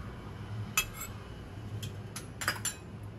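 A metal spoon scoops yogurt into a bowl with several light clinks and taps against the dish. The sounds are close and fairly soft over a quiet kitchen background, with no talking.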